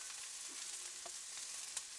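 Onions and peppers sautéing in a pan make a soft, steady sizzle with a few faint stirring clicks, quiet and close, no talk.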